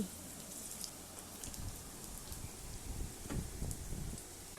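Fish roe fritters sizzle and crackle in hot oil, a steady broadband frying hiss with scattered pops and spits, close and moderately loud throughout.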